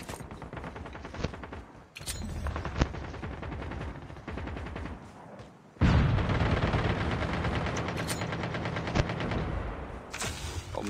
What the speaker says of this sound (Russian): Сверху стрельба.